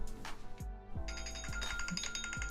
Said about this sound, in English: hang on, that's my alarm.